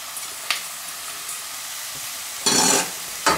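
Sliced porcini mushrooms and shallots sauté in a saucepan, a soft steady sizzle broken by a few sharper bursts of stirring and hissing, close up, with no voices.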